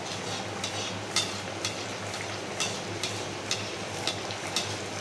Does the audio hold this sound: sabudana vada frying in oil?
yes